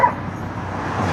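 Dogs barking in an outdoor neighborhood during a walk, a few short yips near the start standing out over steady traffic-like background noise.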